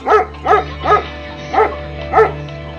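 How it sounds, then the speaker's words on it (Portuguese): A dog barks five times in a steady, evenly spaced series, close and loud, with no talking over it. "Por que você tá latindo assim?"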